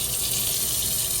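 Steady rushing spray of water from a kitchen faucet, loud and close, a continuous hiss with no pauses.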